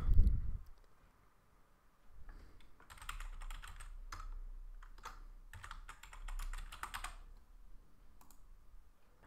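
Someone types a password on a computer keyboard in quick bursts of clicking keystrokes, close and fairly quiet, with short pauses between runs and no talking.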